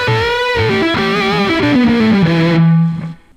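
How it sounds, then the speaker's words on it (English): Distorted electric guitar run through a ring modulator, a sustained buzzing tone whose pitch bends and wobbles as the whammy bar is pressed, loud and alone before the note cuts off near the end. "the ring modulator moves in the opposite direction that your actual pitches do, like when I press on the whammy bar"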